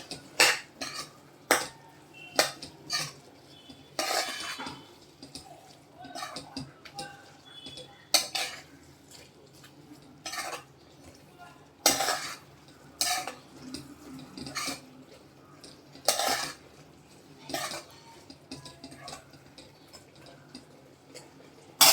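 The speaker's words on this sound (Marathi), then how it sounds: "ते पण ह्याच्यात आपण छान मिक्स करून घेऊया" Spoon stirring turmeric and chilli powder masala in a pan for a Maharashtrian val birde dish, with repeated sharp metallic scrapes and clinks in an irregular rhythm, close and fairly loud, with no talking.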